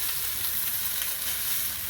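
Piri piri chicken sizzles skin side down on a hot griddle, a close, steady hiss and crackle that holds even the whole time with no talking.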